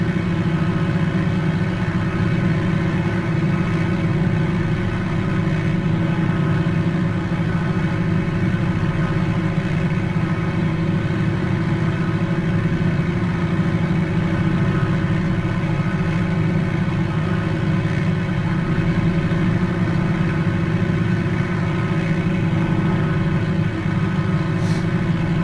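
Steady droning piston engine of an Edgley EA-7 Optica aircraft in Microsoft Flight Simulator, heard as a continuous even hum just after takeoff with the RPM being brought back.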